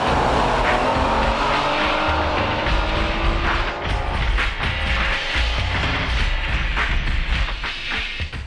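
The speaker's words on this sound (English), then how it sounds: "Now let's see a time attack, uncut, using optional larger diameter tires at Suzuka Circuit." Honda Type R race car on an uncut time attack lap at Suzuka Circuit on larger diameter tires, engine roaring continuously at high revs with shifting pitch, loud and close throughout.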